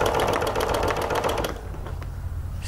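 A Janome MC 11000 sewing machine stitching during ruler work on fabric, a fast steady mechanical rattle for about a second and a half, then stopping and leaving a faint hum.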